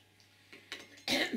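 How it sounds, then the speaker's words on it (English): A woman clears her throat in one short, rough burst near the end, after a few faint indoor rustles and clinks. "Let me just clear my throat."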